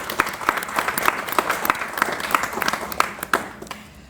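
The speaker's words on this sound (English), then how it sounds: "Can I have another round of applause?" Audience applause at a startup pitch competition's grand finals: a burst of many hands clapping with distinct sharp claps standing out, fairly loud and sustained before thinning and fading toward the end.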